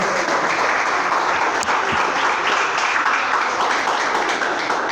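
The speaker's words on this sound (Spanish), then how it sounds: "Denle un aplauso al Señor, por favor, esta mañana." A church congregation claps steadily throughout at a Spanish-language service, dense continuous applause with no talk over it.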